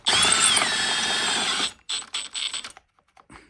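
A cordless drill bores a hole for a plumbing bracket with one steady, loud whine of a little under two seconds, then stops. Several short, broken bursts of drilling follow.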